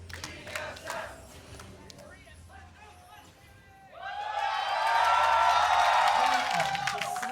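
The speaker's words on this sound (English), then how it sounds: "Hometown crowds for both here trying to cheer each other on" Hometown crowd at an LCS Regional Qualifier League of Legends match between TSM and Clutch Gaming, with commentators talking over a low hubbub before loud, sustained cheering and shouting swells up and fills the arena.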